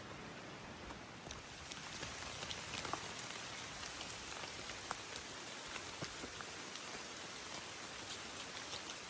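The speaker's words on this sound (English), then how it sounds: "Woo-wee, man, it is raining. I'm soaked to the bone." Steady rain pours down on the Appalachian Trail in West Virginia, a dense hiss of drops with occasional sharper patters on nearby surfaces, continuous and even, with no voices.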